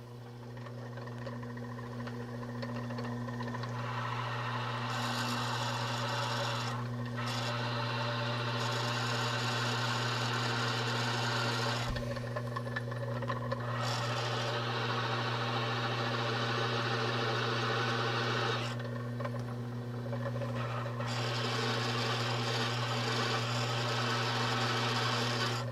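A dull drill bit grinding against annealed 1084 high carbon steel, a steady whining motor drone with a constant hum underneath, rising and dropping in bursts as the bit bears down and eases off, no talking.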